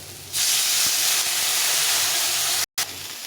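Vegetables with salt, turmeric and cumin powder frying in a pan as water is added, a sudden loud steady hiss that holds for a couple of seconds, cuts out briefly, then resumes.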